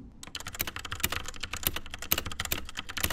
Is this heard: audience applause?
no